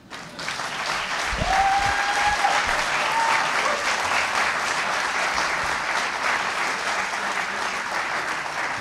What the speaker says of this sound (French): Vous méritez une main d'applaudissement.